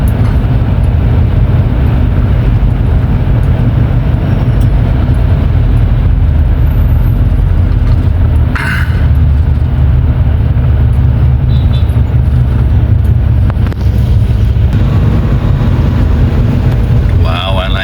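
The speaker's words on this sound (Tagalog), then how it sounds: "Traffic." Road traffic in Lemery, Batangas, heard from inside a moving vehicle: a steady low rumble of engines and tyres, with a brief brighter whoosh midway.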